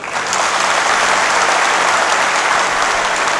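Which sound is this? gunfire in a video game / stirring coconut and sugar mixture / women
women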